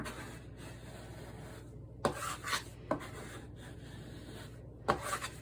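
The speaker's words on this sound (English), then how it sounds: "pulling here, pushing back, and allowing it to roll on itself slightly" Sourdough dough for a Tartine-style country loaf being shaped on a bench: soft, steady rubbing and scraping strokes with a few short, sharper pulls, faint over a low room hum.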